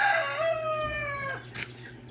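A rooster crows once, nearby and loud, its call falling in pitch before a short rustle and quieter background.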